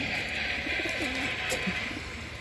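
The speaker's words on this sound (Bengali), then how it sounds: "এই খাঁচাতে আছে দুইটা কবুতর" Soft coos from two banded racing pigeons in a cage, a few short warbling calls close by over a steady background hiss.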